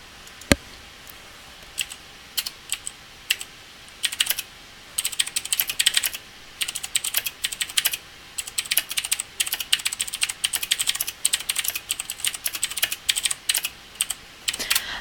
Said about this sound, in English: I'm sorry about the typing thing